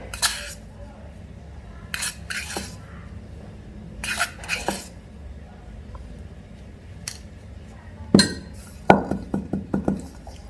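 A metal spoon scoops ground coffee into a moka pot basket, giving scattered close clinks and scrapes, with a cluster of sharper taps near the end.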